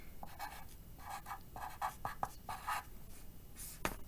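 Pencil handwriting a short sentence on paper, quick scratchy strokes in bursts with brief pauses, close and fairly quiet, no voices.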